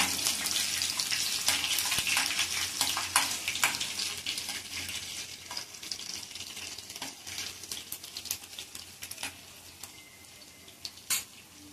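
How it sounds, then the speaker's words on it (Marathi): Ingredients for masoor dal are sautéed in a pan, with a soft sizzle under repeated scraping and clinking of a spoon against metal, close and fairly quiet, with occasional sharper taps. "हे आपण सॉटे करून घेऊया."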